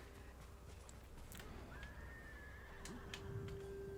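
A horse neighs, a long wavering whinny in the video game Ghost of Tsushima, over a soft background hum and some faint clip-clop.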